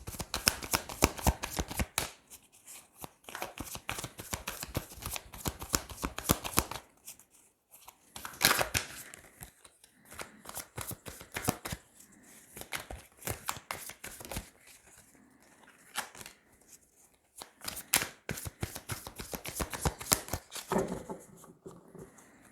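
Tarot cards are shuffled and cut by hand at close range, quick riffling bursts and soft slaps repeating in uneven runs with short pauses between them, no voices.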